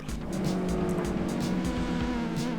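A race car engine in Gran Turismo 4 roars continuously under heavy acceleration, a harsh, gritty drone with a pulsing rhythm, heard alone at a steady loud level.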